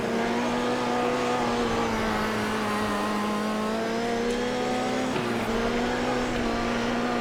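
A dirt track race car in World of Outlaws '24 revs hard while its rear tires spin and slide up the track, a loud, close engine roar rising and falling over several seconds with no talking.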